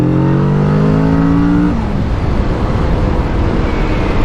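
A motorcycle engine revs while riding, its pitch climbing steadily and then dropping off as wind noise and rumble take over, loud and close throughout.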